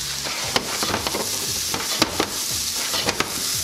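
Shrimp frying in a hot pan for chicken and shrimp fried rice, a steady close sizzle broken by irregular clinks and scrapes as the pieces are stirred, with no talking.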